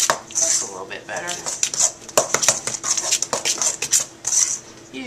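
A spoon clinks and scrapes through chocolate coconut pecan cookie dough in a bowl, with close, irregular knocks and rattles of utensil against the bowl.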